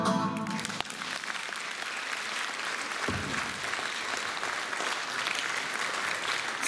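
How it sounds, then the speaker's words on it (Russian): After a brief musical ending, a concert audience at an officers' club breaks into sustained applause, a thick continuous wash of clapping that holds steady to the end without speech on top. "Дружнее аплодисменты, дорогие друзья."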